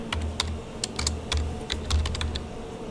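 Rapid typing on a computer keyboard, a close, dry run of irregular key clicks with short pauses between bursts, heard alone against a quiet background hum.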